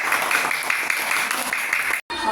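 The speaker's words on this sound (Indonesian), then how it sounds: "Tepuk tangan untuk kelompok 2" Primary school pupils clap for group 2 in a classroom in a short burst of brisk, close applause from many hands. It cuts out for a moment near the end and then resumes.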